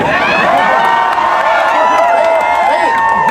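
A large crowd at an MS Dhoni event at Parul University cheers and shouts loudly and continuously, with excited children's voices and scattered clapping mixed into a dense, steady roar.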